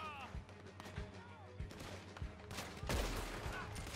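A gunshot aimed at a rope in the video game Red Dead Online cracks out amid a short burst of loud shots and game noise, with people talking over it.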